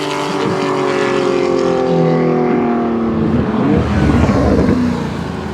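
Porsche GT3 RS driving past alongside a Ferrari 458, its engine note loud and buzzing with sustained harmonic tones that rise and swell as the car passes close by.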